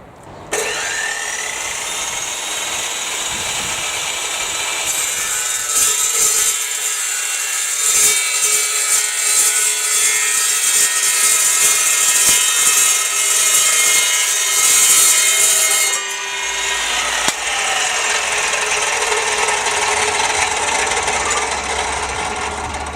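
An Evolution Rage 2 14-inch chop saw cold cuts through metal with a loud, sustained high whine and gritty grinding for about fifteen seconds, then the blade spins down, a slight chatter audible throughout.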